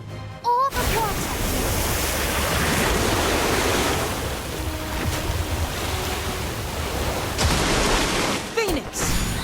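Water orb spell from the Boss of Blades video game, a loud rushing surge of water-like roar that swells after a sharp onset and fills most of the clip, with brief crackling effects near the end.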